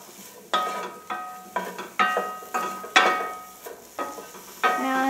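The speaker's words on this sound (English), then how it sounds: "Give it another stir." A utensil scrapes and taps against a pan as aloo gobi, potato and cauliflower, is stirred, about nine distinct clattering strokes in an irregular rhythm, close and fairly loud with quiet gaps between them.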